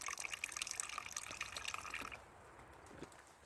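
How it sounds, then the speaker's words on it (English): Liquid fuel pours into a camping stove with a soft, steady trickling splash that runs for about two seconds close up and then stops, leaving faint handling noises. "Fill up our stove. About 2/3 of the way full."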